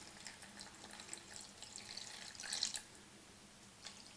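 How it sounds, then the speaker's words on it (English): Chicken broth pours into a cooking pan as a faint, thin liquid trickle with a brief louder splash midway, quiet and close with no talking. "I'm going to put some chicken broth into the pan"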